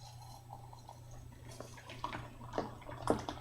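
Hot water is poured over Darjeeling tea leaves: a faint, quiet trickle with a few soft splashes that grow slightly more distinct toward the end.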